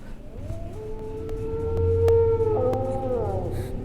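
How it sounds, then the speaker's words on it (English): A single wolf howls in the video game D, a long clear rising-and-falling cry that carries for several seconds over a quiet background with a low hum. "That wolf howls again."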